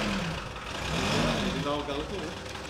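A Peugeot 306 car engine turns over and settles into a low, rough idle, with its rumble rising and wavering slightly and voices talking faintly nearby.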